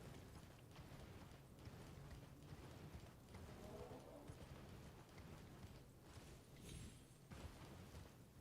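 Horse galloping in the video game Elden Ring, a steady run of soft hoofbeats under a constant ambient bed, with no talk over it.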